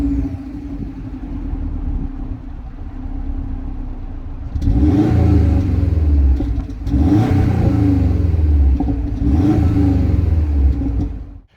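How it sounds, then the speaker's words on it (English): A Subaru STI fitted with a Prodrive back box revs loudly three times over a steady idle, each rise and fall of the engine carrying a deep exhaust burble close to the listener. "Pro Drive back box, which to be honest with you, I'll give you a little clip of it now"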